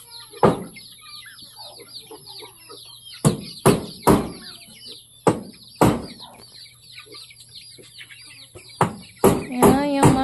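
Chickens cluck repeatedly on a farm with pigs, their calls scattered across the clip with a few sharp knocks and thumps, close and fairly loud, with no talking.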